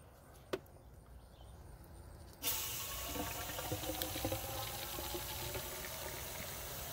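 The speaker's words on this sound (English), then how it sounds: "So I'm gonna go ahead and give it some water right now." Water pours onto a container garden plant, a sudden broadband splash starting partway through and running steadily to the end, close and fairly loud, after a quiet start with a single sharp tick.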